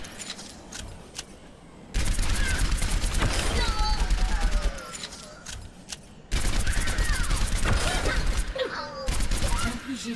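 Rapid bursts of gunfire strike a training robot in the Overwatch video game, coming in two long sustained volleys with quieter gaps between them and game voice and effects underneath.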